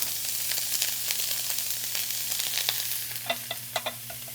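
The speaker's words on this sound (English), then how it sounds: "Gonna add the carrots, the celery," Carrots and celery sizzle steadily in a pan with onions, a soft constant frying hiss under a low hum, joined toward the end by a few scraping stirs.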